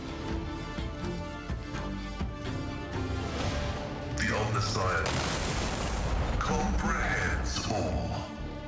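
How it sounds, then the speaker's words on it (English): Arc rifle fire and impacts from a turn-based battle in Warhammer 40,000: Rogue Trader, sounding as heavy crackling bursts and booms that grow louder midway, layered with game music and someone talking over them. "if we want to fire the arc rifle, we better do it now"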